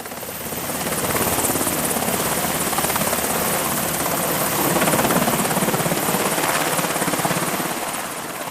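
An MH-60R Seahawk military helicopter flies close by, its loud, steady rotor beat and turbine whine swelling slightly midway and easing off near the end, with no other sounds.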